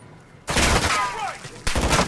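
Gunfire in Call of Duty: Modern Warfare 2, two loud, sharp blasts close together, each with a ringing, echoing tail and a faint whine between them.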